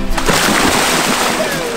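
People plunge into water on a Nebraska Sand Hills stop, a loud close splash and sloshing burst lasting under two seconds.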